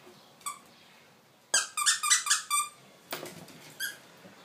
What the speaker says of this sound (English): This is an extra large Safari Pixel Pal dog toy, and he does squeak